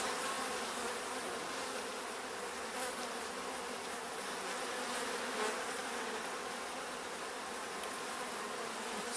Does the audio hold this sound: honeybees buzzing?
yes